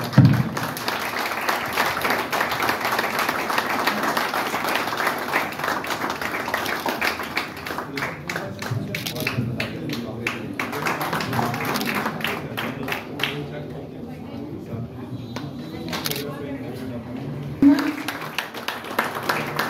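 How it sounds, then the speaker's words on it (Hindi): A Doctors' Day event crowd claps for a doctor with loud, sustained applause that thins into scattered individual claps, while a voice talks over it and the clapping swells again toward the end. "डॉक्टर राज सोलंकी, सर के लिए जोरदार तालियां"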